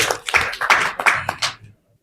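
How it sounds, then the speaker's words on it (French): Journalists at a theatre programme ceremony give a short burst of hand clapping, several sharp uneven claps over about a second and a half, near and fairly loud, then it stops. "Vous pouvez vous applaudir."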